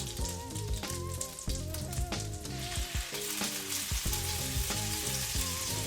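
French toast sizzling in a skillet over turned-down heat, a steady close crackle and spatter of frying with light scraping, no speech.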